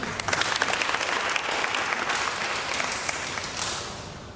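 A church congregation applauds, dense sustained clapping from many hands that fills the room for several seconds and tapers slightly toward the end, with no voices.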